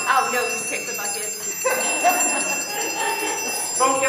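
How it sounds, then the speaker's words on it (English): A hand bell rings repeatedly on stage during a school drama club play, bright metallic tones recurring through the clip while actors talk over it. "If I'm not back in a minute, he'll start ringing his bell for me."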